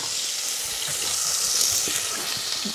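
Finely chopped ginger and garlic fry in hot oil, giving a loud, continuous, bright sizzle that holds steady throughout, with no voices over it.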